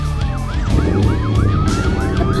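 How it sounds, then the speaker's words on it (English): Animated police car siren wailing in a steady, repeating up-and-down sweep, loud and continuous over a rumbling engine and traffic-like background, with no voices. "The police car activates its siren."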